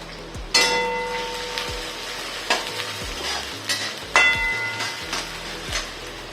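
Sliced large onion frying in a pan for chowmein, a steady sizzle broken by sharp clanks and scrapes of a spoon stirring against the metal, close and without talk, with a low rumbling hum beneath.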